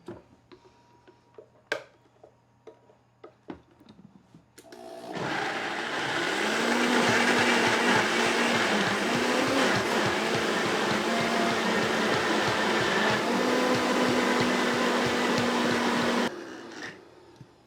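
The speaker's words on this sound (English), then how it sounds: "we're going to blend our coconut carrot curry sauce" Close and loud, a blender whirs steadily for about eleven seconds as it purees a coconut carrot curry sauce, starting and stopping abruptly, with faint kitchen clicks before it starts.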